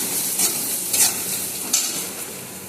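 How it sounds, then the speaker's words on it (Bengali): Ground Kashmiri chili, cumin and turmeric fry in a pan with a soft, continuous sizzle, a few scraping stirs of a spoon rising over it at intervals, close by with no talking. "আমি এবার কিছু নাড়াচাড়া দিয়ে নেব।"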